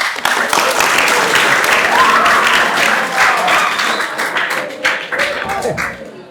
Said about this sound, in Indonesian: Kasih tepuk tangan loh